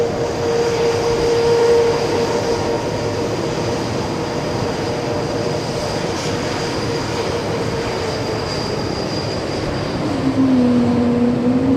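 A Lufthansa airliner taxis at JFK airport, its jet engines producing a steady, far-off roar with a sustained whine that shifts pitch near the end, heard alone without talk.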